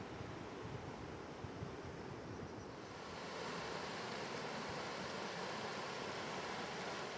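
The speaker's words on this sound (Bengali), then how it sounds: "জলের আওয়াজ দেখুন।" A fast-flowing hill river in Jharkhand rushes in a steady broadband roar, faint and continuous, with a slight swell partway through.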